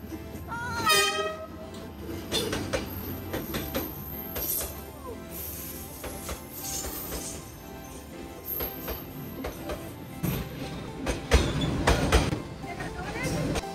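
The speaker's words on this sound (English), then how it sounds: "What a unique experience and environment to have a coffee and watch a train go by." A train passes along a narrow track through a residential street of cafes in Hanoi, rumbling loudly and close with horn blasts and rattling wagons, while people talk nearby throughout.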